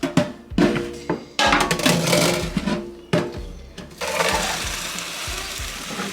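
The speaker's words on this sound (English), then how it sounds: "We are going to throw this, like drain this water and throw it like I said." Water from cooked pinto beans pours and splashes out as it is drained, with irregular clattering knocks of the pot and a steady rushing flow toward the end.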